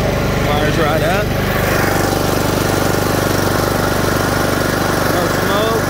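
The engine of a John Deere Z225 42-inch zero-turn riding lawn mower runs at a loud, steady, close throb throughout, with someone talking briefly over it.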